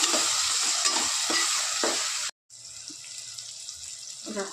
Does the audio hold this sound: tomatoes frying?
yes